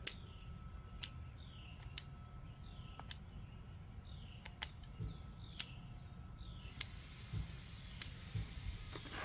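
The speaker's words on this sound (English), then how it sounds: "trim out some of these larger roots" Scissors snip through the roots of a shimpaku juniper bonsai in sharp, evenly spaced clicks, about one per second, crisp and close against a quiet background with faint birdsong.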